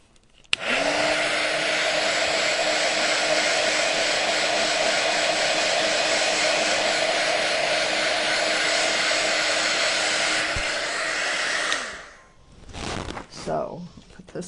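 Hair dryer blowing steadily on a craft witch hat brim, a loud continuous whir that holds for about eleven seconds before switching off, followed by brief handling noises.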